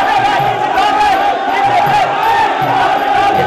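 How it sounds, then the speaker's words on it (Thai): A crowd at a Muay Thai fight cheers in a steady, loud, rhythmic roar, close and continuous, with chanting pulses throughout. "เชียร์ตอนนี้นี่ปั่นตัวเลยครับ"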